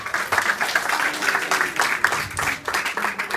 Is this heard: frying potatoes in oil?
no